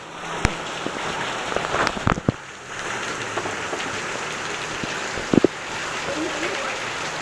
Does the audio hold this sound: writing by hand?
no